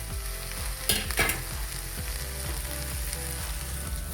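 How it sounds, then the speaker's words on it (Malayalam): Okra with sliced onion and green chilli stir-fries in hot oil with mustard seeds, a steady close sizzle broken by repeated scraping and stirring strokes, alone without talk. "എണ്ണ ഒഴിച്ച് കടുക് പൊട്ടിച്ച് അതിനുശേഷം വെണ്ടയ്ക്ക ഇട്ട് സവാളയും പച്ചമുളകും കൂടി ചേർത്ത് നമുക്ക് ജസ്റ്റ് ഇളക്കി കൊടുക്കാം."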